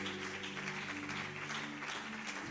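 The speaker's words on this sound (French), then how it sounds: "Tu n'as pas bien acclamé, j'ai dit acclamons le Seigneur" A church congregation applauding and cheering the Lord, steady sustained clapping from a crowd filling the room, with a low held tone from instruments underneath and no speech over it.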